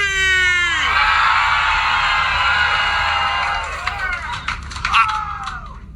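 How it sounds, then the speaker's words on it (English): A political rally crowd screams and cheers loudly in a sustained roar that slowly fades and breaks up into scattered whoops. "If you want 4 more years of Donald Trump, let me hear you scream."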